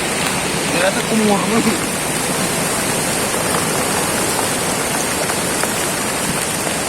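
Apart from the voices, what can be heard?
flash flood river rushing during heavy rain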